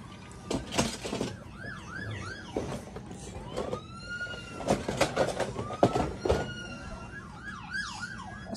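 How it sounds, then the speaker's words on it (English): Warbling ambulance sirens whoop repeatedly, sometimes overlapping, amid loud crowd commotion and bangs on a busy street. "There's another ambulance."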